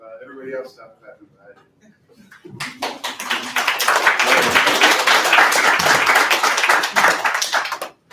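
An audience at a poetry night claps for a poet: dense, loud applause builds after a voice speaks and holds steady before stopping abruptly.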